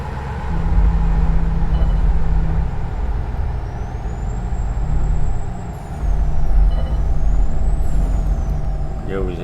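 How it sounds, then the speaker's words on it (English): Heavy truck descending a grade in New Mexico in American Truck Simulator, with a continuous loud low engine-brake rumble and drone, air-brake hiss and faint chimes layered over the steady roar. "you'll get the truck to do the braking down through here"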